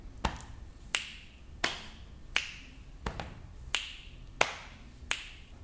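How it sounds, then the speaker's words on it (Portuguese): Body percussion with finger snaps and chest and leg slaps forms an even rhythm of about eight crisp, close snapping hits, alternating with softer body taps. "Peito, estalo, perna, estalo."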